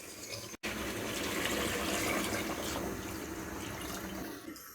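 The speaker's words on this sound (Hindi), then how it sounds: "अब हम इसमें इतना पानी डालेंगे जितना हमने सालन रखना है" Water poured into a pot of potato and meat curry, a steady near rushing pour that runs continuously after a brief cut at the start, with no talk.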